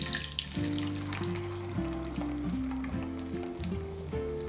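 Eggs for an omelet sizzle loudly in a hot pan over fairly high heat, a close, steady crackle and hiss with no talking.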